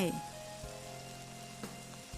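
Oyster mushrooms fry in butter in a pan with a quiet, steady sizzle, faint and continuous with a couple of soft clinks.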